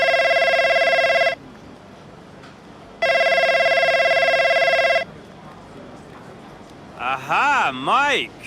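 A telephone rings in the F1 25 racing game with two long electronic ring bursts separated by a pause, loud and close, followed by a person starting to talk.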